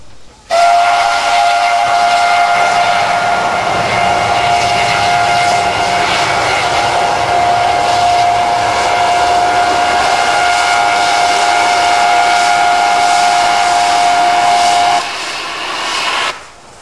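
A steam locomotive on China's Shibanxi line sounds a long, loud sustained whistle mixed with the roaring hiss of a blowdown, holding steady for about fourteen seconds before cutting off, leaving a brief trailing hiss.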